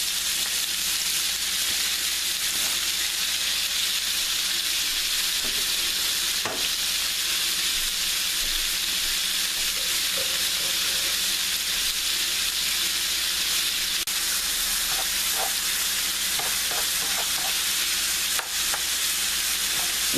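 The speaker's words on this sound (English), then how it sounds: "And we're going to add our onions as well." Steak and onions for a cheesesteak fry on a hot griddle with a steady, dense, close sizzle and occasional faint stirring clicks, continuous throughout with no speech.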